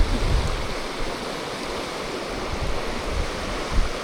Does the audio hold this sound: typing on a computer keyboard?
no